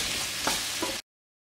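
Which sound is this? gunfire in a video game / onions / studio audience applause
onions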